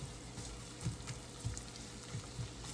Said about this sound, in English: So we're gonna let this saute.